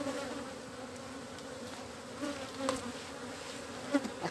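Honey bees buzzing around an open beehive being inspected for honey production, a steady close drone with individual insects flitting past the microphone now and then.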